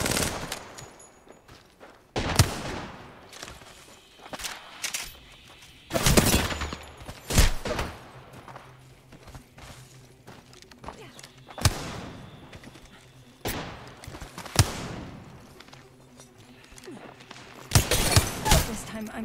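Gunfire in a video game shootout, spaced single shots and short bursts cracking loudly at irregular intervals, some echoing, with quieter gaps and occasional speech between.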